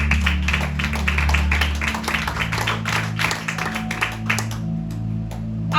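Church congregation applauding during a Spanish-language Pentecostal service, a steady dense patter of many hands clapping over sustained low organ or keyboard tones, continuous and fairly loud throughout.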